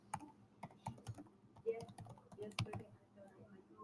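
Quiet, uneven tapping on a computer keyboard as an email address is entered, with a handful of distinct close keystrokes and faint speech in the background.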